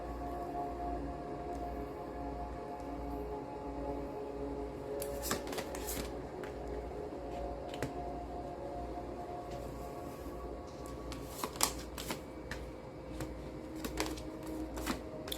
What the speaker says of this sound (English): Allow me to get all the cards out